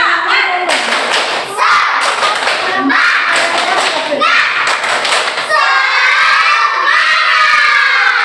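Children in a classroom do the 'tepuk semangat' chant together, with loud, close bursts of patterned clapping and shouting voices, finishing with a long sustained collective cry.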